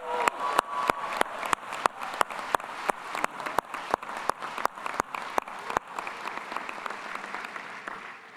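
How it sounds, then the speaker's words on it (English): Audience applause at a graduation ceremony, a room of hands clapping with sharp, rhythmic claps standing out over the wash of the crowd, fairly close and continuing steadily, no talk. "Let's give a round of applause for Bennett and Wells."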